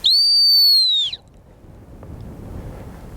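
A gun dog training whistle gives one long, loud, steady blast of about a second outdoors, then cuts off, leaving faint wind and rustling.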